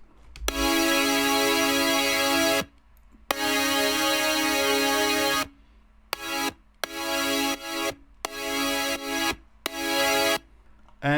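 Synth chords processed with OTT, sidechain compression and EQ: two long sustained bright chords, then a run of shorter chopped stabs pumping in rhythm, loud and alone.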